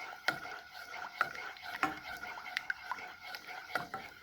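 Spoon or spatula stirring a strawberry cheesecake mixture in a pan until it melts, with light scraping and several sharp clinks against the pan, close and fairly quiet, no talking.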